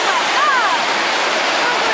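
Waterfall spray pouring down toward coastal rocks, a steady broadband roar of falling water heard up close, continuous and unbroken for the whole stretch.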